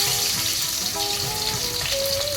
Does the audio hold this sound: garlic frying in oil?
yes